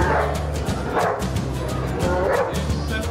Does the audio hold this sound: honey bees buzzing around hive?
no